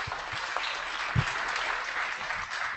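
Audience applause at a Startup Weekend pitch event for veterans in San Diego, a steady wash of clapping from a room of people, moderately loud and continuous, with a few louder claps standing out.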